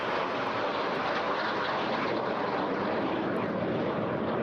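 A Strikemaster jet flying at the Eastbourne airshow, a steady loud roar of engine noise held throughout without breaks, no talk heard.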